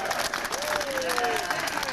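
Rally crowd of about 100 people at a living wage coalition event applauding steadily, dense clapping and some cheering filling the whole stretch, with a voice carrying over the top.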